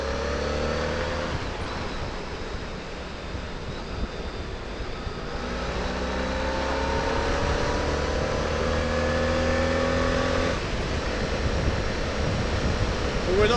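Road traffic on a clear morning, heard from inside a moving vehicle: a continuous engine and road rumble that slowly swells and shifts, with rising tones as the vehicle accelerates.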